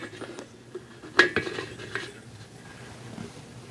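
Metal parts of a Primus camping stove clink and rattle as they are taken apart by hand, a few sharp close taps and scrapes in a quiet room, one louder clank near the middle.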